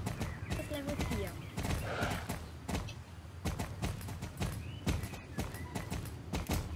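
Hooves clip-clop as a horse is ridden in the video game Star Stable Online, a rapid regular beat of close hoofsteps with a player's voice talking over it.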